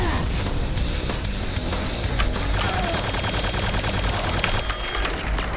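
Rapid bursts of gunfire in Quake II rattle continuously, layered shots and impacts crackling loudly with no pause, like an intense firefight.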